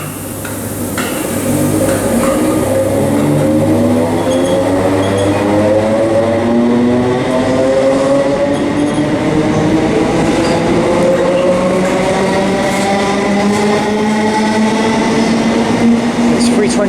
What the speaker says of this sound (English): It's the 12:33 ScotRail service to Springburn.